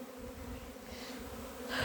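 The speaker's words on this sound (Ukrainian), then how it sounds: "Дивіться, як пасіка загуділа" Bees buzz over an apiary as young bees make their orientation flights during an abnormally cold spring, a dense, steady hum with layered tones that swells slightly louder toward the end, with no voices.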